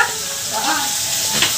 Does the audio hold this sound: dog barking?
no